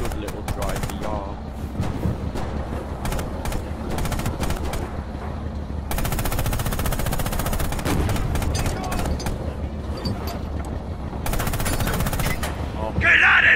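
A tank's mounted machine gun in the game Panzer in the Mist fires long rapid bursts, loud and near, with short pauses between volleys; people talk over the shooting.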